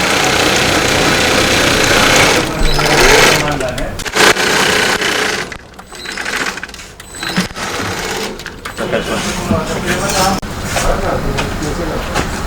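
Mattress stitching machine sewing fabric in a factory, loud mechanical running with rapid rhythmic clatter that pauses and restarts midway, with voices talking over it.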